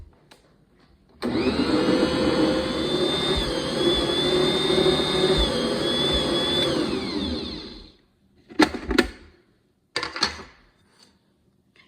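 A mixer kneading bagel dough with onions, a loud steady motor whine that starts abruptly, runs for several seconds and cuts off, followed by two short bursts of clattering handling noise.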